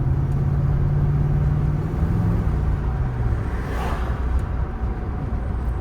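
A 2010 Ram 1500 Hemi V8 with a misfire in limp home mode runs rough, a steady low rumble heard from inside the cab with a faint droning hum and no talk.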